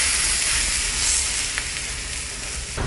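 A ragi, wheat and fenugreek-greens adai sizzles on a hot pan right after being flipped, a steady close frying hiss with faint crackles throughout.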